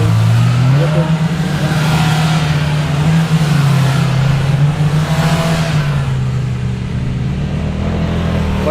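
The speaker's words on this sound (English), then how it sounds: "Bunch of guys in the RZRs, whipping." A pack of Polaris RZR side-by-sides heads out into the sand dunes, their engines droning loudly and steadily close by, the pitch rising and falling as they pass.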